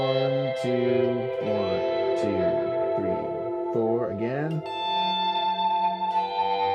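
Lead electric guitar riff with effects engaged, drenched in echo, chorus and distortion, sustained bending notes ringing out over a steady pattern while a voice counts in over the playing.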